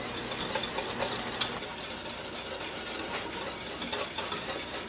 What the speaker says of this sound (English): So now it's at the rolling boil stage, so I'll start my timer for 1 minute.